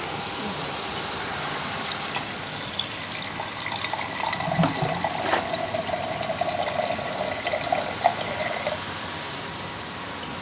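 Water poured into cooking fish curry masala in a pan, a continuous running, gushing stream of moderate loudness lasting throughout, with no talking.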